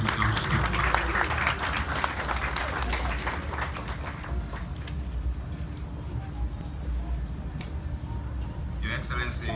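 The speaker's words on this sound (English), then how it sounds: "Please, a round of applause as he comes to speak to us." An audience applauds a speaker at the opening of the Ecobank Ghana head office, sustained clapping from a large crowd that thins gradually, set over a constant low hum and murmur in a big hall.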